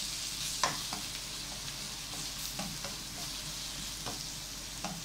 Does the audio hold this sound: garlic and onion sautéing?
yes